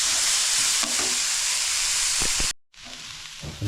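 Onion frying in hot oil for a Konkan black crab curry, a loud continuous sizzle with occasional stirring scrapes, broken by a brief cut before the sizzling resumes.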